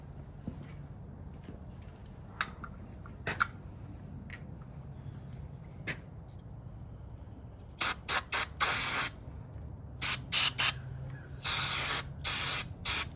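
CRC mass airflow sensor cleaner sprayed from an aerosol can while working on a Jeep Wrangler JK, several loud close hissing bursts of varying length after a quieter stretch of faint garage noise, no talk.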